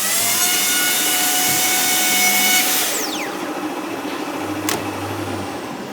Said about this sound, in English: it's pretty much just the laminate we're cutting off